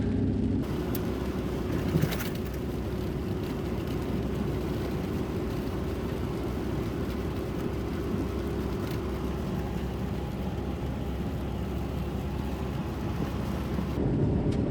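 An old beater car rolls steadily along a gravel forestry trunk road, with a continuous loud low rumble of engine and tires on loose stones and broadband road noise running throughout, no talk.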